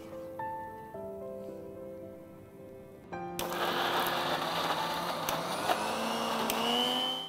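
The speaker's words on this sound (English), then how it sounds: "We switch off the gas and we have to puree the carrots." Blender pureeing cooked carrots for iced carrot and orange soup, starting abruptly after a brief tonal lead-in and then roaring loud and steady to the end, a dense whirring wash with no talking.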